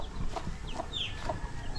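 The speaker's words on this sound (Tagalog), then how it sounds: "Ang dami na namang sisiw." A mother hen clucks near a brood of eight chicks at a home yard, with soft repeated clucks and faint higher peeping calls scattered over steady outdoor background noise.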